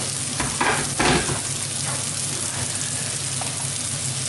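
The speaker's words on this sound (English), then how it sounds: "just adding in some boiling water and a chicken stock cube" Steady sizzling from a hot pan of chicken and mushrooms with a couple of louder splashy bursts early on as boiling water goes in, then a continuous hiss.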